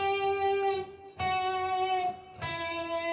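An electric guitar plays a blue harmony line: three clear, sustained single notes, each ringing out and fading before the next is struck, close and alone.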